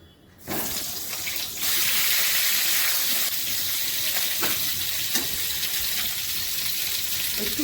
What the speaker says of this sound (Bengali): এবার পটলগুলো একটু ভেজে নেব